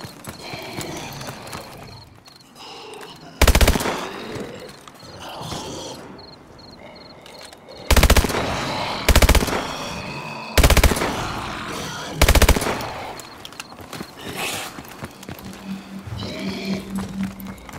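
Gunfire in Call of Duty Exo Zombies, with four or five loud, sharp bursts standing out at uneven intervals over a busy game soundscape of clattering and background noise, with no talk.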